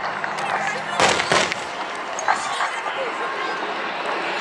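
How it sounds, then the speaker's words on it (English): Sharp bursts of ground pyrotechnic explosions at the 2016 RAF Cosford air show crack out amid outdoor crowd noise, with two strong blasts close together followed by a smaller pop. "can you see those explosions? That looks like some ground academic fire."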